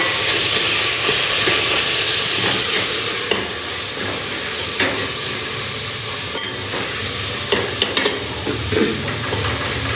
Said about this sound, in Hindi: इसको तड़का भी लग रहा है, ये देखिए